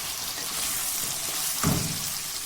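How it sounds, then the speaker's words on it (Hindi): Beef pieces fry in oil for a restaurant-style karahi with a dense, even sizzle throughout and one brief louder burst of spatter or stirring near the middle, with no voices. "गोश्त ऐड करके अब इस ऑयल के अंदर इसको हम तकरीबन 5 से 6 मिनट तक इसको इस ऑयल के अंदर फ्राई करेंगे"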